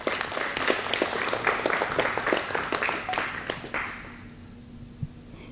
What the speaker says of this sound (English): let's give Mr. Tony Dowell a round of applause for letting us come out to the Little Steakhouse today